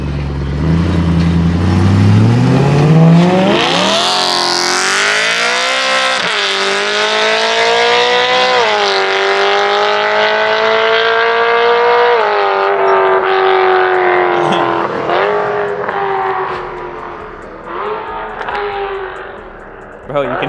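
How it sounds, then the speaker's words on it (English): A single-turbo BMW M3 CS pulls away with a rising, loud engine howl, then drops through repeated downshifts with sweeping pitch changes before the sound fades off into the distance. Onlookers talk over it. "you can hear the downshifts all the way over here"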